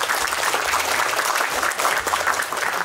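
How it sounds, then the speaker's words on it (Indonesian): An audience applauds an official at an event on free health checks for drivers and parking attendants, steady broadband clapping filling the whole stretch at moderate loudness, with faint talk mixed in. "tepuk tangan untuk Pak Sekda."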